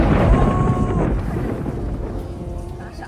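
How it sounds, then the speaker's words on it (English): Thunder from a lightning strike during rain in Bangkok rolls loudly, then fades into a lower rumble over steady rain. "That lightning strike said it all."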